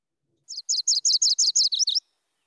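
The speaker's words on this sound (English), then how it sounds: "this bird's vocalization is a two-parted one. Chittle, chittle, chittle, turtle," A MacGillivray's warbler sings one clear, high song of about nine quick, buzzy chittering notes. They come in an even rhythm, the last few slightly changed, close and alone against silence.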